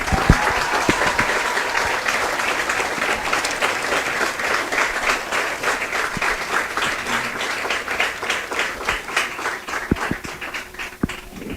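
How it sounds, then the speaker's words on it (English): Sustained applause from a crowd at a sports Hall of Fame induction ceremony honoring the Lady Indian softball team, dense steady clapping lasting throughout, loud and unbroken with slight tapering near the end. "How about another round of applause for the"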